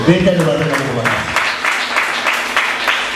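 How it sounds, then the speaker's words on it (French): A church congregation bursts into applause during a French-language sermon by a prophet, a steady crackling wash of clapping that starts under a voice and carries on alone. "Acclamons pour les rois."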